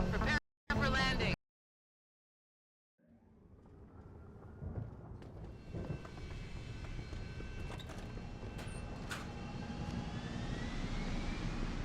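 Aircraft in the video game Deus Ex: Human Revolution coming in to land, a steady engine roar that rises out of silence after brief voices and grows gradually louder and fuller.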